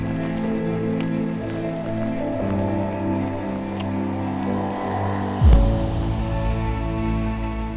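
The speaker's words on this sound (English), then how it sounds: "it's raining" Rain pattering onto a clear river near a large waterfall, a steady soft hiss of drops on the water with a low rumble beneath, ending in a sudden close thump.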